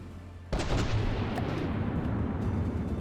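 Naval guns on a battleship fire in the From the Depths video game, a loud blast that opens into a heavy, rumbling roar of continued gunfire and booms.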